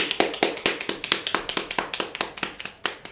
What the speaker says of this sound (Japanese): じゃあ拍手で皆さん